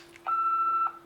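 A single steady electronic beep from a Star Wars Darth Vader hero room guard's message recorder, a clear sustained tone lasting about half a second, close and clean over a quiet background.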